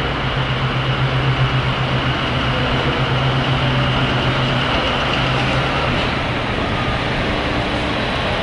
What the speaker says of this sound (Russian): Подъезжает паровоз.